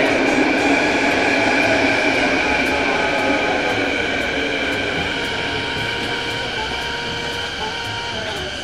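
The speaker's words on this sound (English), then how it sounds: "The next train to arrive on the eastbound platform is the one. Here is the train." A subway train pulls into an eastbound platform with a loud, sustained roar and high whining tones that slowly ease as it slows, filling the station close by.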